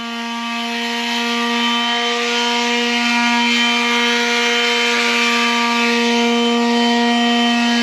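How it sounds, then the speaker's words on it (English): A power sander works close up on a black walnut live edge window frame, holding a loud, steady whine with a strong buzzing hum from start to finish and no talking. "So we're going to go ahead and get it sanded up."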